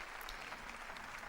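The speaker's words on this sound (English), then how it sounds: "Perfectly timed with a round of applause as Pope Francis" Dense, steady applause fills a hall as Pope Francis leaves the stage at a meeting with authorities, civil society and diplomats in Singapore, a continuous wash of many hands heard at a distance.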